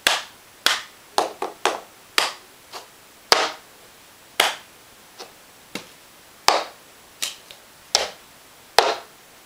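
Hand claps and plastic cup taps of the cup song ring out in a brisk, uneven rhythm, with a dozen or so crisp, close hits each sharply cut off.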